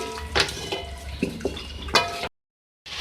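Chicken karahi is stirred after yogurt is added, producing a few close, uneven spoon scrapes and knocks against the pot over a faint bubbling, then a brief silent gap.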